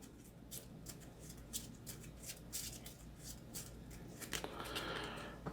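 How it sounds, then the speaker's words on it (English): Marvel Champions cards of the horror deck shuffled by hand on a table, giving a steady papery riffle and flutter with repeated soft bursts that swell into a denser shuffle near the end, no talk. "we shuffle the horror deck, and it's going to go right on top"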